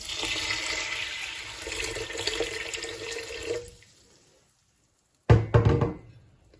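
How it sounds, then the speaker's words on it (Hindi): Water gushes and splashes steadily into a pot of whole masoor lentils for several seconds, stops, then a short burst of pouring and splashing follows near the end. "साथ ही हम इसमें पानी, चूंकि अभी कम है इसलिए हम थोड़ा और डाल लेंगे।"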